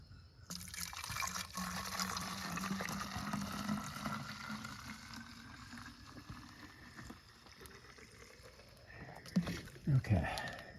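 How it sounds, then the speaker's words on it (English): Vinegar is poured from a container into a washing machine, a continuous splashing liquid pour running for most of the stretch, quiet and close, ending with a few louder knocks and clatters. "Let's get our vinegar. Let's go down here and pour it."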